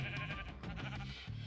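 Sheep bleating in a video game, placed in a rooftop garden of a castle build; repeated nasal bleats follow one another closely at moderate level, with no talking.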